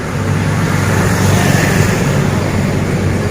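Sparse road traffic on Birchand Patel Path in Patna, Bihar, during a lockdown, with a steady broadband roar of a few passing cars and motor vehicles nearby, no voices heard.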